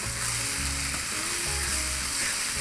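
Bolognese ingredients sizzle steadily in a hot pan as salt is stirred through, a continuous close frying hiss with faint scraping from the stirring and no voices.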